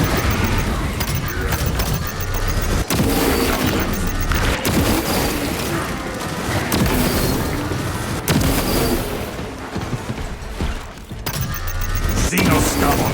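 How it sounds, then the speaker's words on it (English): A shrapnel grenade detonates in Warhammer 40k Space Marine 2 amid heavy combat, with several loud booms and sharp crashes over a dense wash of gunfire and battle noise, a voice speaking in places. "Deploying shrapnel grenade"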